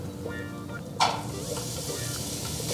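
Sliced red onion and carrot sizzle steadily in a stir fry pan, with a sudden louder hiss as more pieces drop in partway through, close and continuous.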